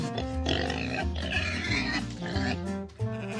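Pigs grunt and oink over busy background music, the snorting calls blending into a dense mix.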